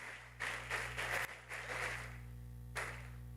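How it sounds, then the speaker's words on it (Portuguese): A short burst of applause at a church service rises and falls over a steady low hum, then a brief final smattering of clapping. "Vamos aplaudir o Senhor."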